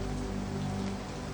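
Splattering rain in a stormy children's story scene, a dense, continuous patter of drops on surfaces with a steady hiss, moderately quiet and unbroken, with no voices.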